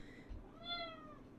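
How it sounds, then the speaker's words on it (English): A cat gives a single soft, drawn-out meow with a rising then falling pitch, fairly faint and close, with no speech. "He's such a cute kitty."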